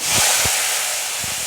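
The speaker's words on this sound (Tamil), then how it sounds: "இந்த வெங்காயம் பச்சை பச்சைக்காய் அதெல்லாம் போட்டு வதக்குவோம்" Onion and green chilli hit hot oil with popped mustard seeds, setting off a loud, steady hiss and sizzle nearby, with a couple of soft low thumps from stirring.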